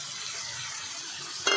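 A spice paste of garlic, dried red chili and Kashmiri chili powder is stir-fried in a pan for a fish curry, making a soft continuous sizzle that ends in a sudden metallic clink.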